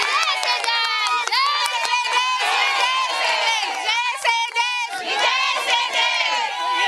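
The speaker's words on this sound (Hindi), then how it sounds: "अपने लिए आप लोग जोरदार ताली बजाइए" A huge crowd of contract teachers at a protest rally cheers and shouts loudly together, a dense, sustained roar with rising and falling yells.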